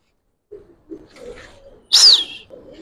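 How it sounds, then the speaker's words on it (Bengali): Giribaz pigeons in a loft give short, soft coos, followed by one louder, higher call up close. No one speaks. "কবুতর আরো আছে, এই যে কিছু কবুতর এখানে।"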